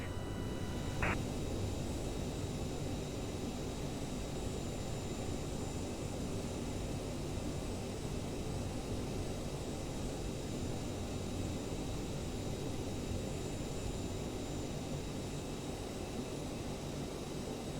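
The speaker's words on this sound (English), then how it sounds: "Cleared for takeoff runway 24 right" A CRJ900 jet waits on the runway at Montreal, heard from inside as a low steady engine rumble and cabin drone, faint and unbroken for almost eighteen seconds, with a brief tone near the start.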